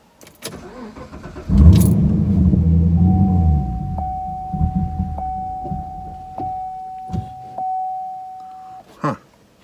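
Car starter cranking a few seconds but the engine failing to catch, then a repeating electronic chime and a couple of clicks and knocks; no spoken words.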